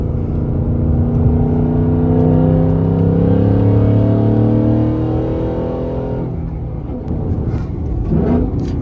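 A tuned Ford Mustang S650 with a 5.0 engine revs loudly up through a rising, throaty drone, then blips and burbles through clean downshifts, heard close and without talk.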